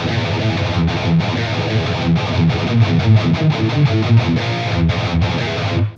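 Distorted electric guitar chugs through a long E riff, a tight palm-muted rhythm with short stops between bursts, loud and close with no voices.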